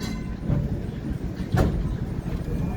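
A city tram idles and rumbles at New Regent Street tram stop 18 in central Christchurch, New Zealand, with a low, steady mechanical drone and a brief clunk partway through, heard close by.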